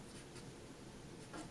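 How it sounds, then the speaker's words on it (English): Pen writing on a page, with faint, quiet scratchy strokes in short bursts close to the microphone. "I'll write that down at the top of this page."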